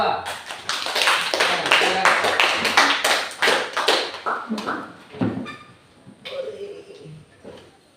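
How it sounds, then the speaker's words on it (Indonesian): A classroom group claps for the second group, a burst of quick overlapping handclaps that thins and fades, with a voice talking over the end. "Kita berikan tepuk tangan untuk kelompok 2"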